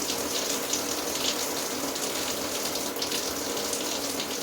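Water sprays steadily from a Dream Spa LED temperature-sensing shower head with mist jets, massage and spray settings, a continuous loud hiss with no pauses and no talking.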